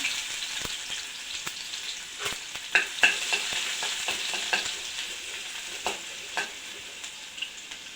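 Cumin seeds and garlic crackle in hot oil as a mushroom vegetable dish begins, with a steady close sizzle and repeated sharp scraping stirs throughout and no voices.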